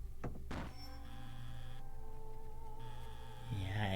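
A desk drawer is pulled open in the visual novel Subarashiki Hibi, a brief sliding scrape with a soft thunk, set against a quiet sustained background tone with another short sliding sound near the end.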